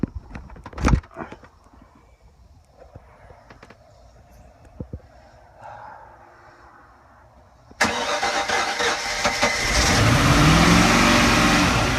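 A 2001 Regal 3260 boat motor cranks and fires up after a few scattered clunks, then runs loud and rough with revving close by, with no one talking.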